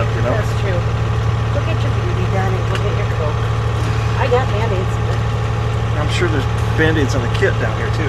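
A 7-ton truck engine idles while warming up, a constant deep rumble throughout, with people talking over it.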